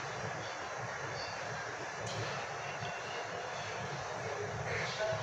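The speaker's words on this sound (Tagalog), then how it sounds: "Ang lakas ng hangin sa ulan." Heavy rain and strong wind in Quezon City make a steady, wide roar of rushing air and downpour that carries on without a break through the whole stretch.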